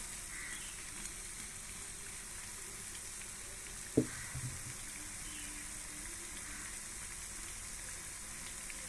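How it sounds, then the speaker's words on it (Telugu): Urad dal vadas (garelu) deep-frying in oil give a steady, even sizzle throughout, with one brief knock partway through. "ఇలా గోల్డ్ కలర్ వచ్చేదాకా ఫ్రై చేసుకోవాలి"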